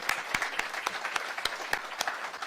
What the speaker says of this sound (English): So we'll get some applause for them.